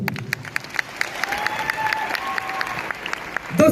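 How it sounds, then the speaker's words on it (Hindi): An audience at a Safe Shop celebration event applauds for a guru, with sustained crowd clapping and some cheering that rises toward the end. "मैं चाहूंगा ये महान गुरु के ऊपर ताली होना चाहिए।"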